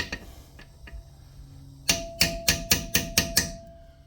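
A golf cart rocker seal on an EZGO cart is tapped into place, with a couple of light taps followed by a quick run of seven sharp, evenly spaced hammer blows, close and distinct.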